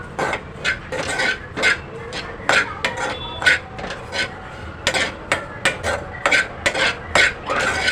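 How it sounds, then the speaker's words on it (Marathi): Already-puffed amaranth (rajgira) roasted over a slow gas flame in a pan for ladoos, with repeated scraping and clinking strokes of a spoon against the pan in an irregular stirring rhythm, close and fairly loud, with no talk. "राजगिराच्या लाया ऑलरेडी भाजलेल्या असतात मी एखाद मिनटं भाजून घेणार आहे राजगिराच्या लाया"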